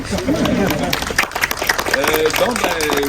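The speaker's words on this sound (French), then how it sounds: "On peut vous applaudir." Audience at a heritage park launch applauding a donation, brisk clapping under clearly audible speech throughout.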